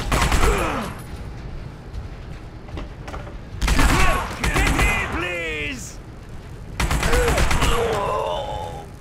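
Gunfire in The Punisher video game, loud bursts of rapid shots in three separate volleys, with shouting voices and pained cries between and under the shooting.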